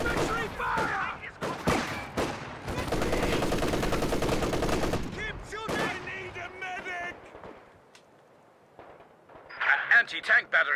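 An MG-34 machine gun fires in the World War II strategy game Company of Heroes 2 as rapid, dense bursts of gunfire mixed with other battle noise and scattered voice lines, the firing briefly dropping away before starting again.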